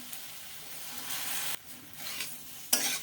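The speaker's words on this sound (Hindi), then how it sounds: "अब मैं इन सभी चीज़ों को अच्छे से मिक्स कर दूँगी।" Boiled pasta stirred into red sauce in a pan, a scraping, sizzling mix in bursts with short pauses between strokes and a sharp clatter near the end.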